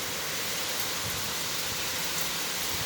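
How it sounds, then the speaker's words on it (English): Hurricane Dorian wind gusting through Grant, Florida, with wind-driven rain blowing down a road; a steady, loud broadband roar of wind and rain runs throughout with no talk. "That's a gust of wind."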